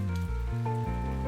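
Steady rain ambience from the video game Necrobarista, a continuous patter layered under sustained tonal music, even and moderately loud throughout.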